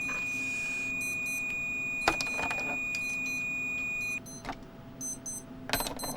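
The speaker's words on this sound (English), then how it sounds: "You might hear double alarms." Two new digital watch alarms set for the same time beeping together; rapid, layered electronic beeps repeat in bursts over a steady tonal hum, with clicks and a brief pause partway through, fairly close and with no talking.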